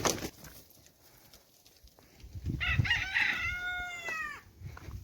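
A single rooster crows once at moderate distance in the early morning in a Saudi Arabian village, a long rising and falling call above faint rustling.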